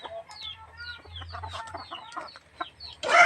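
Several chickens cluck softly in a busy farmyard, with short overlapping calls and a burst of louder noise at the end.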